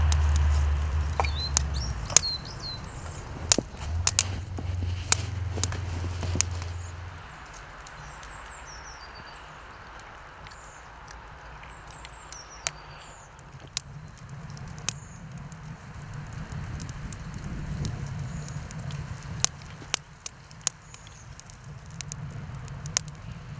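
A wood fire roars in a chimenea outdoors after a UK snow storm: a steady low rumble with sharp crackles and pops that thin out midway, while birds chirp faintly in the background.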